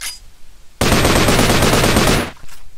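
Automatic gunfire from a weapon in the Island Predator video game, one sustained rapid burst of about a second and a half, loud and close, with quiet background before and after.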